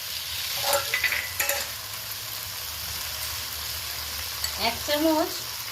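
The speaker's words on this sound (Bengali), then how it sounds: "সবজিটা আবার ঢাকনাটা খুলে আমি ভালোভাবে নেড়ে নিচ্ছি।" Mixed vegetables for a five-vegetable chhakka frying and being stirred in an uncovered pan: a continuous close sizzle with a few scraping stirs near the start and a louder burst of stirring toward the end.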